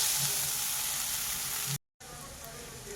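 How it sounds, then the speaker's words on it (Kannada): Onion with ginger garlic paste frying in a pan, a steady loud sizzle that cuts out briefly before resuming, close and continuous with no talk. "ಇದು ಹಸಿ ವಾಸನೆ ಎಲ್ಲ ಹೋಗೋವರೆಗೂ ಚೆನ್ನಾಗಿ ಫ್ರೈ ಮಾಡಬೇಕು"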